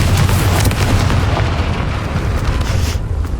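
A Confringo spell blast in the video game Hogwarts Legacy erupts as a loud, dense explosive roar that rumbles on and fades slowly over a few seconds.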